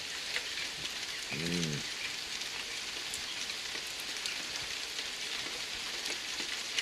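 Steady patter of rain dripping off the bottom of a water-filled Nissan Micra and splashing onto a surface, soft and continuous, with a brief tonal squeak partway through.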